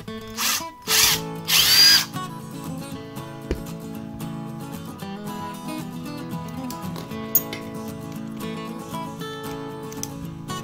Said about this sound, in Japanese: 1箇所だけ実際に使う仕様で穴を開けてみて手順を確認していきます